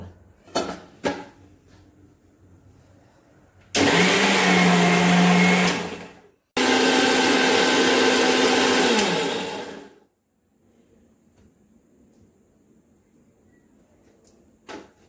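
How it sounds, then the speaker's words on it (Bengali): A mixer grinder blends grated coconut with water for coconut milk, roaring loudly in two bursts of several seconds each with a short pause between, after some clicks while it is set up, then falls quiet. "এটা আমি মিক্সিটা করে নেবো"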